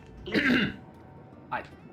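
Throat clearing and a short cough from a person, one harsh burst followed by a smaller second one a moment later, close and fairly quiet.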